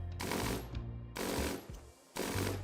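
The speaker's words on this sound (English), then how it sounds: "the prisoners will always hear the sounds of gunshots" Rapid gunfire hits a shooting target in the video game RimWorld, arriving in three loud, dense bursts separated by short gaps.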